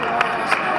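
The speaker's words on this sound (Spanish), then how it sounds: "Aplauso para ellos." Spectators cheer and applaud participants arriving at the finish line of a combined running race, a steady crowd din with brief bursts of clapping and whoops, close and continuous.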